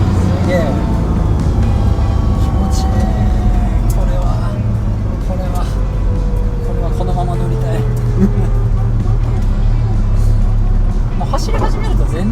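Honda S660 (JW5) fitted with a GCG turbocharger and dog-engagement gearbox, making about 220 hp, driving hard. A loud, steady in-cabin engine drone with shifting pitch runs the whole way, with people talking over it.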